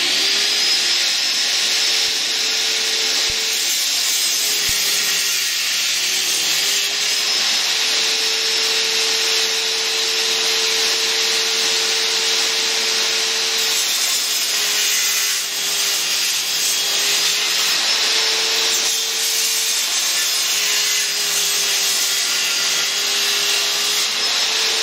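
Ryobi RTS08 table saw cutting wood, a loud continuous motor whine with a steady blade tone that dips slightly under load during cuts, running alone without talk throughout.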